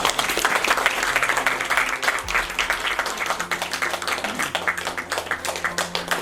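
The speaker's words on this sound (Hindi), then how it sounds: "थैंक यू उनके लिए जोरदार तालियां" Loud applause from a large audience at a meditation gathering, many hands clapping in a dense, sustained roar with some individually distinct claps, close and full for the whole stretch.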